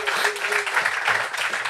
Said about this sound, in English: a big round of applause to all of ye